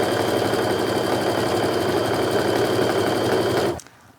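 A sewing machine runs steadily, its needle hammering in a fast even rhythm while stitching a row of quilt pieces together, then stops abruptly near the end.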